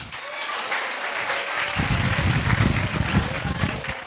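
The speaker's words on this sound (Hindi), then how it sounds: "तालियां।" Loud classroom applause at a career guidance session, a dense crowd of clapping that swells after a moment and continues steadily throughout.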